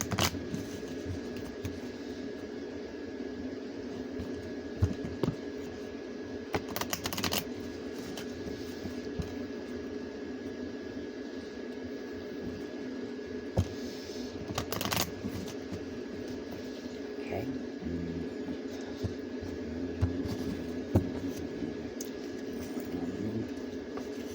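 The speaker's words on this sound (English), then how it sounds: "I shuffle till they tell me to stop." Soft, continuous riffling of cards being shuffled, with a few sharper snaps, over a steady low background hum.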